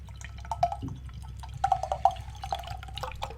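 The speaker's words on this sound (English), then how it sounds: "you just open it and pour the can into the glass, and you just pour the whole thing in" Canned cold brew coffee pours from the can into a glass, making quiet, intermittent trickles and small dripping splashes in a calm indoor setting.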